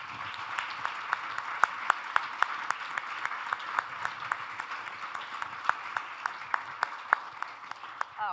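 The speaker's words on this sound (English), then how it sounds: "please, a huge round of applause" A conference audience applauds steadily at closing remarks, with sharp individual claps standing out throughout the sustained clapping.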